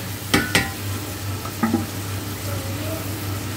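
A vegetable masala with tomato and ground spices fries in a pan with a low, even sizzle, while a spoon scrapes through it in a few sharp strokes.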